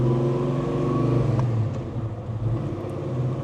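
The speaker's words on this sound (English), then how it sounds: "the cam they drop in these things just chops so nicely, just hopping along" A 502 cubic inch V8 with a choppy cam in a 1970 Chevelle SS rumbles close and loud, its idle loping unevenly before settling into a slightly lower, pulsing burble.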